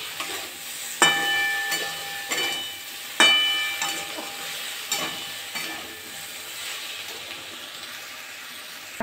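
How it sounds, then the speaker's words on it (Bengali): Taro stems frying in a pan, giving a steady close sizzle and hiss throughout, with a few sharp clanks of a utensil against the pan, and no talking. "কচু ডাঁটাগুলো ভালো করে ভাজতে হবে।"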